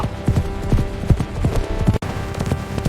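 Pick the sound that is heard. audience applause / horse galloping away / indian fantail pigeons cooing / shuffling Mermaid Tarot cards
horse galloping away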